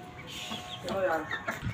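Chickens cluck and squawk at close range while people talk over them amid general farmyard commotion.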